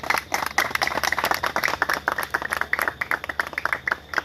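A crowd claps for Dessalines at a commemoration on the Bertrand habitation, Haiti, with steady, moderately loud applause of many hands that continues without a break.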